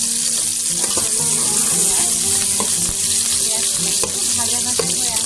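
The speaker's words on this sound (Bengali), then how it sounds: "তেলটা গরম হয়ে আসার পরে আমি দারচিনি এবং এলাচি দিয়ে দিচ্ছি" Cinnamon and cardamom fry in hot oil in a pan, a steady close sizzle running throughout with scattered clinks and scrapes of stirring, no voices.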